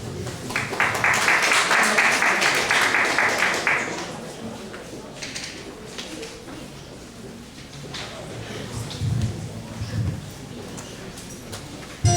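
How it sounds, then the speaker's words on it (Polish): Festival audience at a song festival in Szczecin breaks into strong applause for about four seconds, which then thins into scattered clapping and murmur, with an announcer speaking over it toward the end. "Ogromne brawa!"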